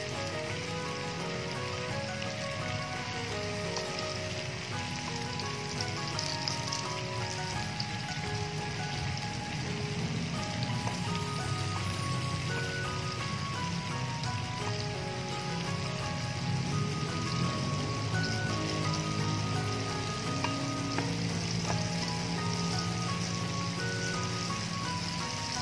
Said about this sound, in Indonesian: Mau saya goreng dulu.